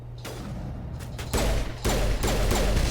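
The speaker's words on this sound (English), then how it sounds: "Oh, snap, that's a rocket." Rockets and gunfire in the Mass Effect video game combat erupt as a loud run of rapid shots, with heavy blasts landing in bursts over a constant battle din.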